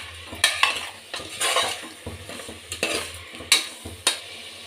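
A spoon scrapes and stirs through chicken sambar with field beans in a pan, giving a series of clanking strokes over a low steady sizzle, close and alone with no talking.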